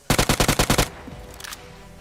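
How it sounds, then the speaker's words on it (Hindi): Automatic gunfire in the mobile battle royale game PUBG Mobile: a rapid, loud burst of about eight evenly spaced shots, then a short fading tail with faint game ambience. "एक बंदे की गोली चलने की आवाज आती है यहाँ से"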